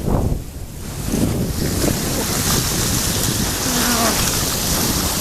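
Ocean waves breaking on the shore, a loud continuous roar of surf mixed with heavy wind noise on the microphone, with no clear talk.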